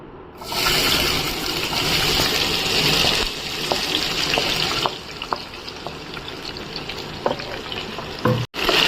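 Chopped onions hit hot oil for mutton kosha and fry with a loud, steady broadband sizzle, with a few small pops and stirring clicks standing out near the end.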